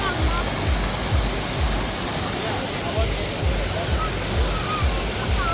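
A waterfall roars close by, a dense continuous rush of water that stays loud and steady throughout, with faint voices and footsteps barely showing through the wash.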